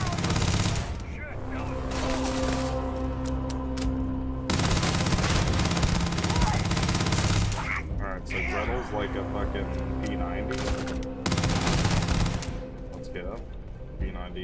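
Rapid automatic gunfire from the Gretel gun in the space game Starfield, loud and sustained in long dense bursts with brief breaks, mixed with game effects and music.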